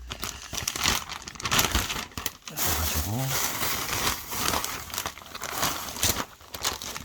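A plastic zipper bag crinkles and rustles in busy bursts close to the microphone, while someone speaks over it. The bag is being used to store cut plant cuttings.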